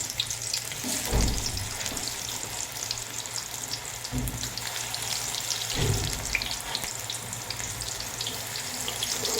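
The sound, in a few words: pakoras frying in hot oil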